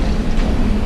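An old freight train rumbling past close by at a creek, a loud, steady low roar with dense rolling rail noise and no voices.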